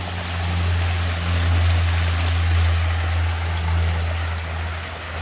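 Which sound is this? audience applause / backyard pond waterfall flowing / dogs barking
backyard pond waterfall flowing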